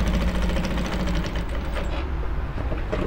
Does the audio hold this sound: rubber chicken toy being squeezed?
no